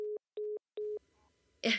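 A phone gives off three short, even electronic tones at a steady rhythm, clear and close, followed by a brief rustle.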